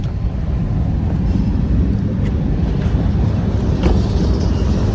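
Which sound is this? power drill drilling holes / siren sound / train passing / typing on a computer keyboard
train passing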